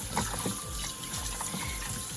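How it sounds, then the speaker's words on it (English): Cold tap water runs steadily over marinated chicken pieces being rinsed in a kitchen, a soft continuous trickle with faint splashes, quiet and close. "I'm about to wash it in some very cold water"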